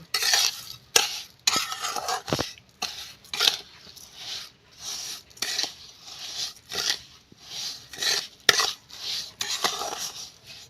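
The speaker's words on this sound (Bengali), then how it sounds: "খুন্তি দিয়ে আমি গুড়ের সাথে চিনিটা মিশিয়ে নেব" A spatula stirs date-palm jaggery into sugar, scraping in repeated short strokes of gritty rubbing and clinks against the pan, close and fairly loud, without speech.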